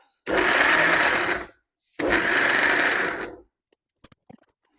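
Two bursts from a mixer grinder blending capsicum chutney, each roughly one to one and a half seconds of loud, steady whirring with a brief pause between, followed by faint clicks and handling sounds.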